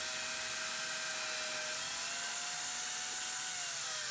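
Power saw ripping wood pieces into feet for a dog kennel cover, a continuous loud whining drone with a slight pitch shift midway and no talking.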